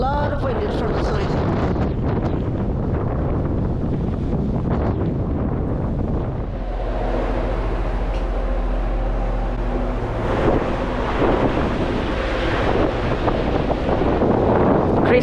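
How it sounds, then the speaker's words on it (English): Steady side wind buffets the microphone on a boat on Lagoa dos Patos, Brazil, over a low, droning hum of engines at 2000 RPM, with a loud rumble building midway and continuing to the end. "But this boat has a lot of wind from the side."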